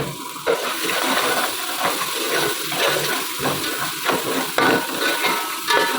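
Chopped onions and green chillies frying in a pan for a masala aubergine and potato dish, a steady broadband sizzle with stirring scrapes, loud and continuous throughout with no talk.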